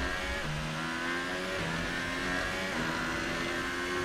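A Formula 1 race car engine in the video game F1 2018, at the Russian Grand Prix, drones at a steady, moderately held rev, a continuous close engine tone with small pitch shifts and no talk.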